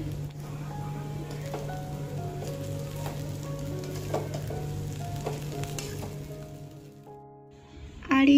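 Noodles frying in a pan with cabbage, potato and spices, a steady sizzle with occasional stirring clinks and scrapes, fairly close, ending in a louder clatter; no talk.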